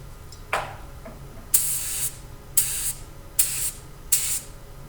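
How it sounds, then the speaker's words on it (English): An air-compressor-driven paint sprayer gives a faint short hiss, then four loud, evenly spaced bursts of spray, each about half a second long, over a low background hum. "I went ahead and set up the sprayer."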